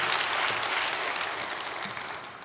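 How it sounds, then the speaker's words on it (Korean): A church congregation gives warm applause during a Sunday service, a steady wash of many hands clapping that slowly tapers off, with no voices. "우리에게 훌륭한 부모 주신 우리 주님 앞에 감사 박수 드리겠습니다."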